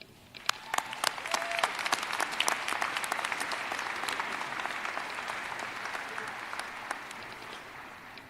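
Commencement ceremony audience applauding to welcome speaker Sarah West, a dense wash of clapping with sharp individual claps near the start, holding steady and slowly tapering off.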